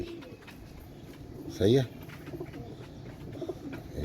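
Royal Teddy pigeons give a single short, clear coo burst close by, with someone talking around it.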